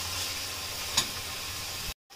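Ghati masala spice mix with turmeric being stirred in a frying pan for dried bombil fish, a steady soft sizzle with one brief scrape of the spoon midway, then sudden silence at the end.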